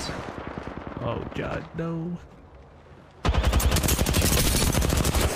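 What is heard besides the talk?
gunfire in a video game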